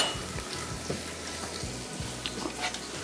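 Ginger and garlic fry lightly in oil with a soft, steady sizzle and occasional scraping stirs in the pan, quiet and close.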